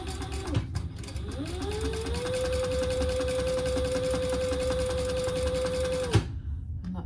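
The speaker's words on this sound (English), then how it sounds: "we're gonna top stitch that as close to the edge here as we can get, about 1/8 inch" A sewing machine top-stitches along the edge of a zipper case, running at a steady, loud, even hum for several seconds before stopping with a clunk.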